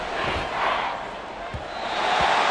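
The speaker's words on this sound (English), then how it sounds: "The Arrowhead crowd in full roar." Stadium crowd roaring at Arrowhead during a Bengals at Chiefs NFL game, a loud, sustained dense roar with a few thumps underneath, with faint commentary mixed in.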